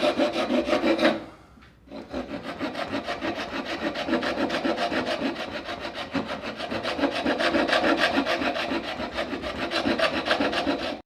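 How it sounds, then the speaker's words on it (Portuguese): A coarse rasp file smoothing pine wood for a dovetail joint, rapid rhythmic scraping strokes with one short pause, close and continuous. "agora eu com a grossa acertando isso"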